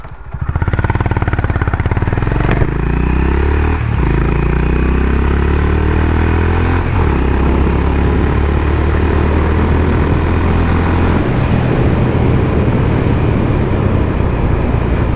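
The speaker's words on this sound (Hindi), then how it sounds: "एग्जॉस्ट जो है बहुत ही ज़्यादा कड़क है" A Honda Highness CB350 single-cylinder motorcycle on the road, its loud thumping engine and throaty exhaust droning steadily throughout, with pitch shifting as it revs up through gears and wind noise mixed in.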